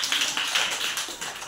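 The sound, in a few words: classmates clapping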